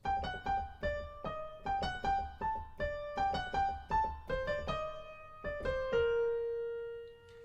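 A single-line fugue subject, transposed as a real answer, played on a bright keyboard, moving in steady notes and ending on a held final tone that rings out.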